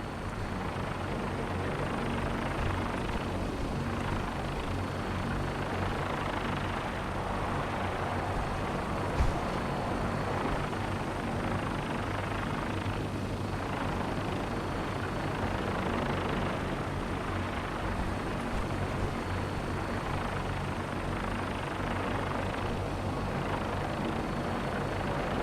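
Steady, loud rotor and engine drone of a gunship helicopter in Fallout 4, a continuous broadband roar that holds evenly for the whole stretch with no speech over it.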